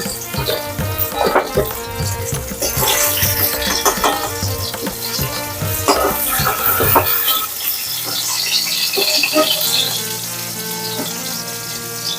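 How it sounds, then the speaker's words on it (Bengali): Fried eggplant slices being lifted from a hot wok of oil during a Bengali curry preparation: a busy sizzle and hiss with repeated metallic scrapes and clinks of a utensil against the pan, steady and close. "দেখো বন্ধুরা আমার বেগুন ভাজা হয়ে গেছে এবারে আমি এগুলোকে তুলে রাখছি"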